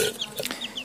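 Junglefowl clucking nearby, a few short soft clucks and chirpy calls in quick succession over steady background noise.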